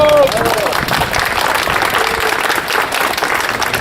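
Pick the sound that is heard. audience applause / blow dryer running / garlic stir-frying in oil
audience applause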